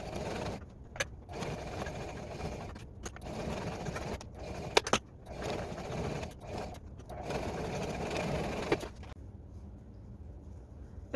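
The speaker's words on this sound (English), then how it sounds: "I'm going to go about 1/8 of an inch inside the line and sew a straight line down across these" A home sewing machine fitted with a denim needle stitches a straight line across elastic in several short runs, its motor whirring in bursts separated by brief pauses and small clicks, then falling quiet.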